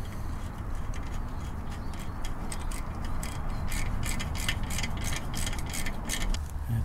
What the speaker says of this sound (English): I torque these down to between 22 and 28 Newton meters.